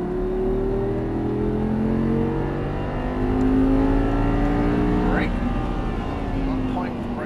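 An Audi R8 V10 on a race track pulls under throttle, its engine note climbing steadily and loud from inside the car, with a brief shift-like break midway, while an instructor talks over it.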